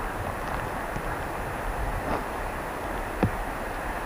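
Millions of gallons of rainwater, stained with moorland peat, pour over a dam in a continuous broadband roar, loud and steady throughout, with faint knocks rising briefly above it.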